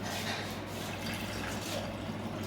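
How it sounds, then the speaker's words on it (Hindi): Water is poured into a container while setting up concrete chloride permeability test equipment, a continuous soft splashing fill with a low steady hum underneath, fairly quiet. "1 लीटर पानी डालिए"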